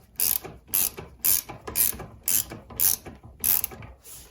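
A ratchet tightens a Showa fork cap on a 2004 Honda CRF250, giving seven quick bursts of crisp pawl clicking in a steady rhythm, close and loud, with short pauses between strokes.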